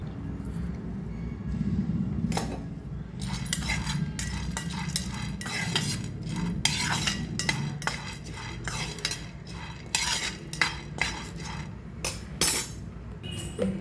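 Roasted gram (putnalu) rattles and clinks in a pan as a metal spatula stirs and scrapes in quick, uneven strokes, close up, with no sizzle and no talk.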